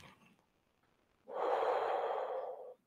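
A single long, steady breath pushed out during a qi gong exercise, close and breathy, lasting over a second after a brief quiet pause, with no talking over it.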